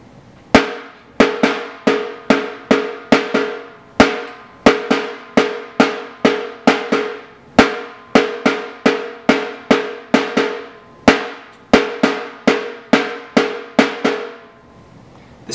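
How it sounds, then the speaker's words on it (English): Caixa snare drum played alone in the basic Rio samba pattern, crisp sharp strokes in a steady alternating rhythm with accented hits repeating in groups, close and clear. "Caixa for Rio Samba. The basic pattern."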